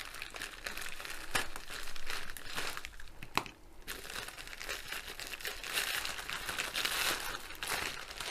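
Blunt scissors cut open a plastic bag holding a diamond painting kit, giving continuous close crinkling and rustling of plastic with brief snips and tearing.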